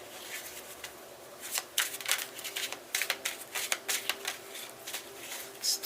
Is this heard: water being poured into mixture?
no